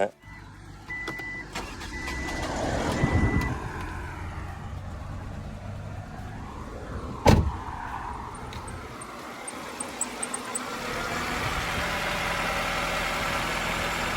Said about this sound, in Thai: ฟังเสียงของเครื่องนะครับ